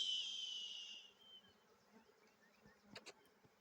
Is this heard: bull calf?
no